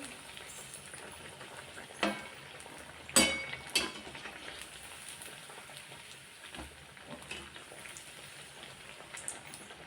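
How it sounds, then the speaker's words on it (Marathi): Sabudana vada deep-frying in hot oil on a low gas flame, a soft continuous crackling sizzle with a few sharper pops and spits. "आणि मस्त असं गोल्डन रंगावर आपण हे वडे तळून घेऊया"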